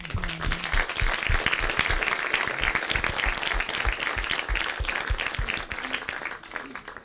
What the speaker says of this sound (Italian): Quindi applauso sincero a Giorgio Buongiovanni.